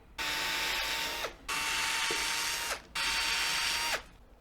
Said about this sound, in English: So now I'm going to step it up to a 9/64 drill bit.